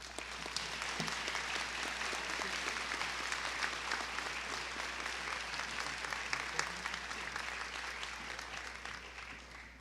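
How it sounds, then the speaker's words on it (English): A commencement audience applauds in a long, even round of clapping, steady and fairly distant, carrying on without a break for the whole stretch with no talk over it. "please give him another big round of applause"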